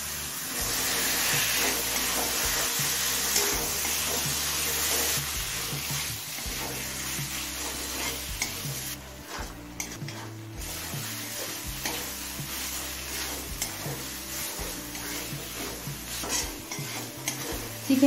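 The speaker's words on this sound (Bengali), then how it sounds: "চিকেনটা মিডিয়াম ফ্লেমে মিনিট 5-6 কষিয়ে নিলাম" Chicken sautéing in a pan over a medium flame for Bengali fig chicken, a steady close sizzle with repeated stirring scrapes throughout, soft music underneath.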